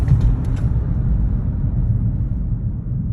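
A car on new brake pads slows hard from speed, a loud, continuous low road-and-tyre rumble with faint squeaks at the start, no voices.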